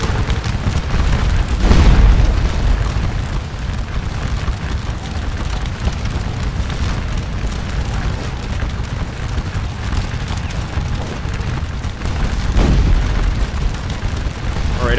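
Dense musket volleys and booming cannon fire from a Napoleonic battle at Waterloo in Scourge of War, a continuous loud rumble with heavier blasts near the start and end, alongside faint hoofbeats.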